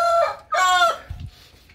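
Backyard chickens in a coop, including molting hens, give two loud close crowing calls with harmonic bands, followed by a short low cluck and fading quiet.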